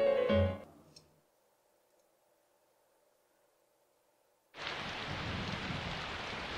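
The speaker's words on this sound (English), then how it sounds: "And it's raining outside." In the video game Persona 4 Golden, after a brief tone and a quiet stretch, steady rain suddenly begins and hisses continuously at a moderate level.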